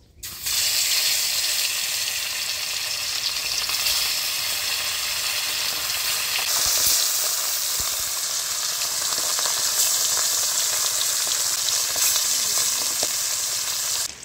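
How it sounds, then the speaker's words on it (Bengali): Banspata fish from a Sundarbans river fry in hot oil, a loud, continuous close sizzle that holds steady throughout with occasional faint clinks and crackles, no voices. "তেল গরম হয়ে গেছে, মাছগুলো ভেজে নেব।"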